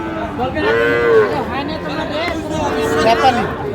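Sahiwal cattle at a livestock market in Madaripur give two long, loud moos close by, over a background of crowd chatter and people talking.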